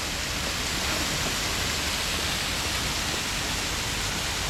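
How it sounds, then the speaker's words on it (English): Waterfall and front fountains at the Emirates Palace Hotel in Abu Dhabi: a steady, loud, broadband rush of falling water that holds unchanged throughout, close by and without voices. "This waterfall going down. And fountains at the front."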